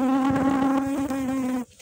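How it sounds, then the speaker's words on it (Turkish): A bee buzzes loudly and close by in a steady, wavering drone for under two seconds, then cuts off abruptly. The setting is outdoors among succulent cuttings set in a sunny, breezy spot. "Bir de arı geldi."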